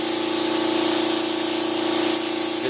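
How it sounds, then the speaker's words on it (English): Mold release sprays as a light mist coat in one continuous, close, loud hiss that holds steady throughout, with no voices over it. "Now, even though I'm just barely misting this, man, 3, 4, 5 mist coats like that."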